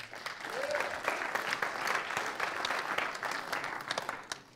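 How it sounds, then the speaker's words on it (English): A conference audience gives a round of applause for the presenters, a dense, steady clapping from a full room that carries on for several seconds at an even level. "Let's get another round of applause for all the presenters that we've already had today."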